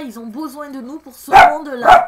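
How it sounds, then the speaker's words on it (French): A pet dog barks twice, loud and close, right after someone speaks calmly indoors. "C'est mon chien."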